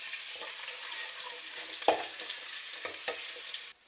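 Ginger garlic paste sizzles steadily in two tablespoons of hot oil for Sri Lankan prawn fried rice, a bright continuous crackle with a few soft stirring scrapes before it cuts off abruptly.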